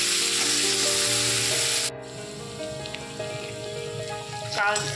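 Chopped onions sizzle and crackle in hot oil for a restaurant-style shahi kaju paneer masala, a dense steady hiss that eases slightly after the first couple of seconds, with soft music running underneath.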